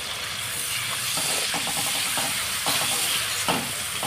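Water splashed into spice paste frying in oil, giving a loud, continuous hissing sizzle close by, with bursts of sputtering crackle in the middle and no speech.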